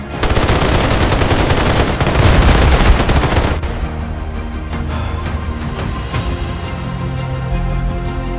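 Soldiers returning fire: dense, loud bursts of rapid automatic gunfire dominate the first few seconds, then the shooting drops back to a quieter, continuing crackle of shots in the background.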